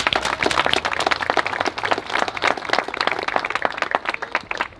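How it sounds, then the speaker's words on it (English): An audience applauds at a flag dedication ceremony honoring the late Senator John Pinto, with dense, lively clapping that holds steady and then thins toward the end. "Please give him a round of applause."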